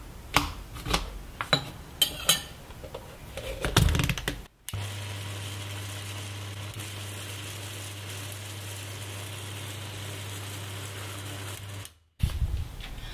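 A food processor grinds peanuts into peanut butter, running as a steady, close whirring drone for several seconds between bursts of rattling and clattering, with no talk.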